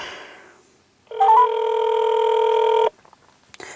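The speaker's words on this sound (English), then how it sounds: "let's dial it in New York" A Samsung Galaxy S6 phone sounds a dialing tone when calling a New York number: a brief stepped chirp, then a steady loud two-tone hum lasting about two seconds before cutting off, with faint handling noise around it.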